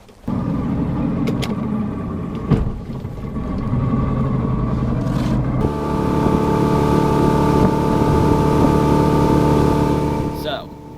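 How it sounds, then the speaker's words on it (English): A saltwater skiff's motor revs up and holds a loud, steady drone as it gets underway, with water rushing beneath and a voice talking over it. "saltwater skiff boat, it was a lot slower at takeoff"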